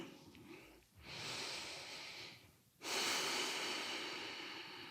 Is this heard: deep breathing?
yes